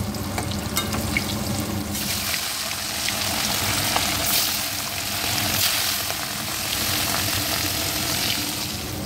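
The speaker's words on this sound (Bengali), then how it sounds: "কাতলা মাছটা ভাজবো, তারপরে রান্না করব।" Pieces of catla fish frying in oil in a pan, giving a loud, dense, continuous sizzle and crackle that holds steady throughout with no talking.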